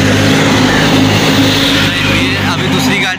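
A bus draws up at Padki bus stand, a loud, close engine rumble with road noise that holds steady and then eases slightly near the end.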